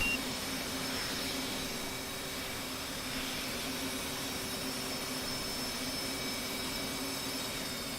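The right jet engine of an F/A-18 Hornet in the DCS flight simulator gives off a steady, loud whine and rush that continues evenly throughout, with faint tonal hums underneath and no speech.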